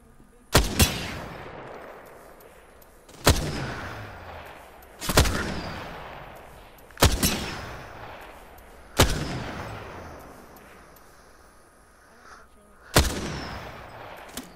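Sharp, loud gunshots from enemies in the video game Apex Legends, about seven single cracks spaced a couple of seconds apart, each with a fading echoing tail.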